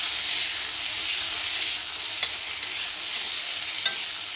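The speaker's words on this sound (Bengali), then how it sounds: "দুটো কাঁচা লঙ্কাও দিয়ে দিয়েছি লাল লাল করে ভেজে নেব" Potatoes, papaya, onion and green chillies fry in a pan with a steady, close sizzle and hiss throughout, broken by a few faint scrapes of stirring.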